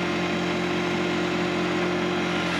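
A HydrosPlus backhoe engine runs at wide open throttle, a steady, loud mechanical drone with a constant low hum that holds unchanged throughout, with no talking over it.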